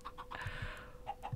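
Chickens clucking in the Minecraft minigame Bawk Bawk Battles, a few short, fairly quiet clucks spaced through a brief stretch.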